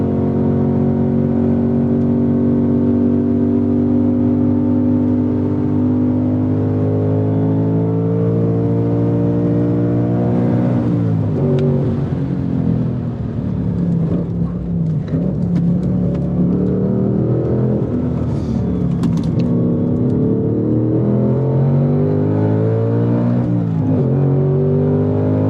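A 2024 Ford Mustang Dark Horse V8 drives hard on a racetrack, its engine loud and close throughout, with steady harmonic revving that shifts pitch as it accelerates, lifts and changes gear, and no voices.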